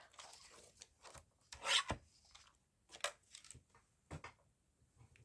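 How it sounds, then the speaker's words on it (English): Paper or a photo print being trimmed at the edge for a collage, heard as quiet rasping cuts and rubbing, a few short strokes with gaps between them, close and soft. "So I'm just going to trim off the edge there because it's a little wide for what we need."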